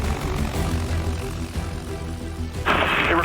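A firefighting Boeing 747 tanker flies in low for a drop run, its engines giving a steady, loud roar throughout that grows brighter and louder near the end as it comes overhead.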